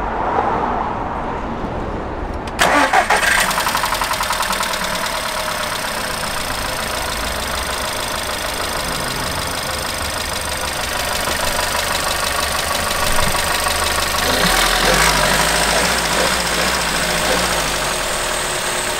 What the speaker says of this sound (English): so now I've turned the car on